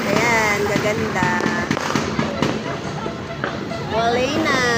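New Year's Eve fireworks explode in a rapid, continuous barrage of loud cracks and bangs close by, while a crowd talks and murmurs underneath.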